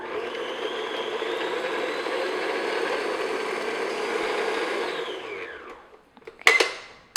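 An electric mixer beats egg and vanilla into cake batter, a steady whirring drone for about five seconds that winds down, followed by a couple of sharp knocks.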